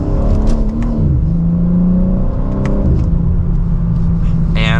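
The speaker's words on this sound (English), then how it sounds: "even a mild acceleration like that still puts a smile on your face" BMW M4 Competition xDrive in sport mode, second gear: a loud, close engine rising in pitch through a mild acceleration, with a brief shift-like dip and steady rumble throughout, heard from inside the cabin.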